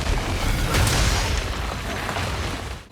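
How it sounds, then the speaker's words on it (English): In a video game, the boss Garangolm strikes with its arm and then a boulder, producing a heavy, rumbling explosive impact that swells and lingers for a few seconds before cutting off. "it hits twice, once with the arm and again with the boulder"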